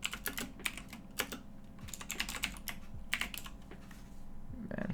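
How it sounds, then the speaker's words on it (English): Rapid bursts of key presses on a computer keyboard while typing code, uneven clusters of clicks with short pauses, close and fairly quiet. "Typing the same lines of code again and again for the same purposes."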